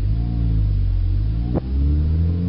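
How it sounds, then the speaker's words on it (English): A manual-transmission car engine rumbles steadily, then a quick gear change briefly drops the pitch before the engine note picks back up. "what you want to hear is an instant change in the transmission"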